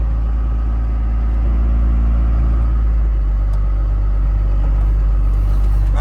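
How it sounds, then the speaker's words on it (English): A loaded 1992 Dodge D350 Cummins ramp truck drives off-road, its diesel engine a steady low rumble with rough, continuous mechanical noise and no talking. "Whoever knew that a loaded ramp truck would be so good off-road?"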